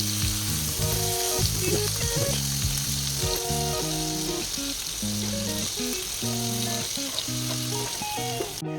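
Prawns sizzle steadily in a hot pan, a close, continuous crackle with a few soft knocks as they are turned with a spatula and fork; no voices.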